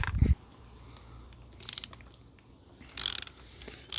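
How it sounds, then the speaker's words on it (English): Hollowtech 2 crank end cap being removed from a Calibre Beastnut mountain bike: short, close bursts of ratcheting mechanical clicks, three separate clusters with quiet pauses between them. "So end cap comes off, so end cap is out."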